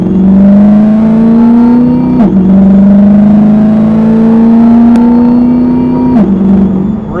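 Lingenfelter Magnuson TVS2650 supercharged C8 Corvette accelerating hard in track mode, with a loud, steady engine roar climbing in pitch through each gear and dropping briefly at two quick, firm upshifts, heard from inside the car.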